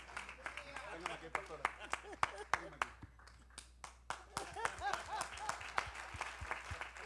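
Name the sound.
congregation applause in church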